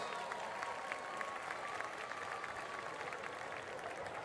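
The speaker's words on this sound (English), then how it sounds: "please give Ella a big round of applause" An audience applauds an award recipient at a high school event, a continuous, even patter of many hands heard faintly from a distance.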